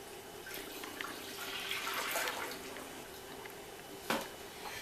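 Six cups of whole milk are poured into a crock pot, giving a faint, soft liquid pour with a small knock near the end.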